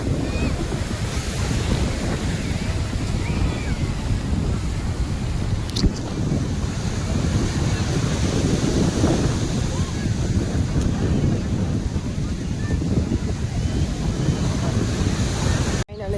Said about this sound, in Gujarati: ઘણે મોજા આવી રહ્યા છે